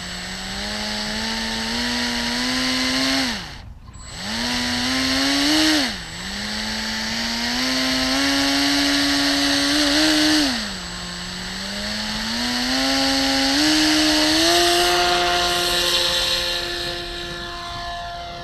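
A powered paraglider's two-stroke engine runs loud and close during a ground launch, droning steadily with several quick dips and surges in revs as the throttle is worked, with no talk over it.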